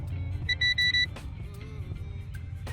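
Multimeter continuity tester probing wiring on an Infiniti G35 emits three short, bright electronic beeps in quick succession, loud and close, over a low engine-like hum, then falls silent.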